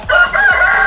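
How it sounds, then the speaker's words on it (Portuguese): A rooster crows close by and loud, one short harmonic call with a couple of rising bursts, heard on its own without talk. "Até o galo tá te parabenizando."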